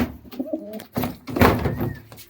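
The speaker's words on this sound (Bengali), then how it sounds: "তিন আঙুলে খাড়ান পায়রা দেখুন ডাক হচ্ছে" A Rampuri pigeon coos up close in short, throaty bursts, with a dull thump and a louder rush of sound midway.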